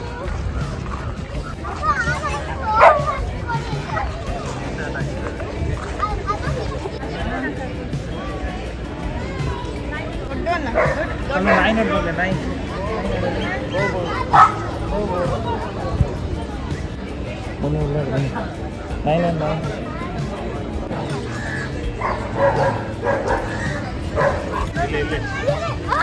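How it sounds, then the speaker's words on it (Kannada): Dogs bark and yip intermittently at a dog park in Cubbon Park, fairly distant and scattered, while people talk nearby over crowd babble. "ಇವಾಗ ಡಾಗ್ ಪಾರ್ಕ್ ನೋಡೋಕೆ ಬಂದಿದ್ದೀವಿ"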